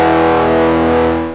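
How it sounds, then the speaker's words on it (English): An electric guitar played through boost and overdrive pedals, one loud distorted chord ringing out and slowly decaying, close and alone with no talking. "the next thing I'm going to throw on after that is our overdrive"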